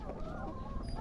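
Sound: chickens clucking

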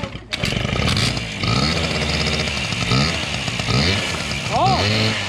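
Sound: motorcycle engine

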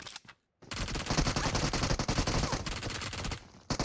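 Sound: gunfire in the video game PUBG Mobile

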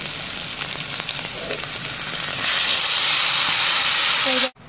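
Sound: frying blended chili spice paste

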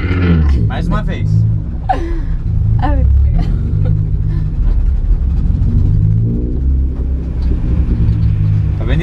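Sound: car differential working and gearbox shaking during drift

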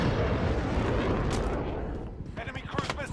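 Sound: cruise missile explosions in Call of Duty Modern Warfare video game

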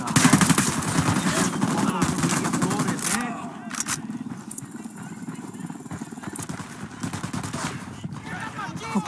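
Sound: gunfire from a video game, Ghost Recon

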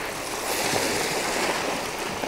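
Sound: waves on a rocky shore at night

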